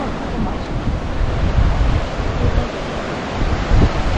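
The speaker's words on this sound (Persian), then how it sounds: "آه عجب آبشاریه" Rushing waterfall in a forested valley near Owzkola village in northern Iran, a steady loud broadband roar of falling water that continues without a break, with some wind buffeting the microphone.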